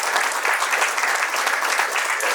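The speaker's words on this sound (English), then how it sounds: "can you have claps for all the management who organized this conference" A conference audience applauds steadily, many hands clapping in a dense, even wash of sound that fills the room without pause.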